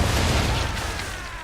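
Ship broadside cannon fire in the video game Assassin's Creed 3: a loud, close, booming blast with a deep low rumble that slowly fades.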